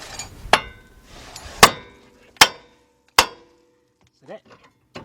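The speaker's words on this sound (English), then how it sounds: "You want to make sure you hit right there on the spindle." Hammer striking the spindle of a 2002 Ford Explorer's front suspension to pop the tie rod joint loose: four sharp, loud metallic blows spaced under a second apart, followed by a brief soft creak and quiet.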